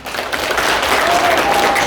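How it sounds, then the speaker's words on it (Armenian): Guests at a golden wedding anniversary celebration applaud loudly. Dense, continuous clapping from a crowd fills the short stretch from start to finish. "շնորհակալ եմ ծափերի համար"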